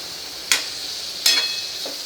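Vegetables sautéed over a high gas flame, with two or three sharp stirring scrapes and tosses over a steady, soft sizzle, close by with no talking.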